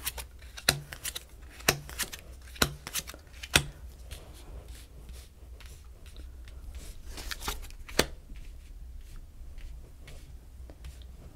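Playing cards being shuffled and snapped: a run of sharp, crisp riffles and taps, clustered in the first half and sparser later, near and fairly quiet with no talk.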